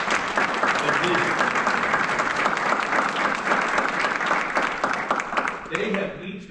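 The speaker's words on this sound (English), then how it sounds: "And to Dr. Smith, let's applaud him once again for the vision." An audience at a 100 Black Men of Central Illinois keynote event applauds in a dense, sustained wave of clapping that holds steady, then tapers as a voice begins to speak at the end.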